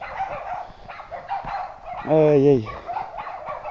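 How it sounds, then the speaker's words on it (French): Dogs bark and yip at a distance along a rural hiking road, in short repeated bursts, with one louder whining bark standing out midway while a man mutters nearby. "Je vais me faire agresser par une armée de chiens."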